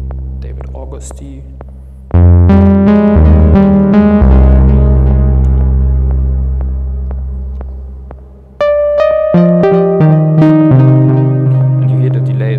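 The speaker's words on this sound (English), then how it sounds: "you hear the delay is really important for that patch" Moog Sub37 analog synthesizer playing a loud, sustained patch with delay, bright harmonic notes layering and trailing over one another, with a fresh chord entering partway through and ringing out under repeating echoes.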